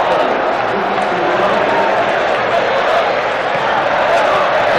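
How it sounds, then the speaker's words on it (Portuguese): Flamengo supporters roar in a packed stadium during a 1994 Brazilian Championship match against Vasco, a dense, steady wash of crowd noise with voices carrying over it. "Torcida do Flamengo festeja."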